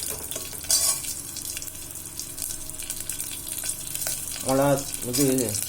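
Fennel seeds, green chillies, bay leaf and anise fry in hot oil, giving a steady close sizzle with a few stirring scrapes. A brief voice rises over it near the end.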